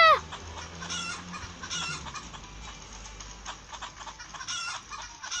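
Chickens in the video game Stickman Party cluck repeatedly at close range, a steady scatter of short clucks over a low background rumble, with a brief high chirp at the start.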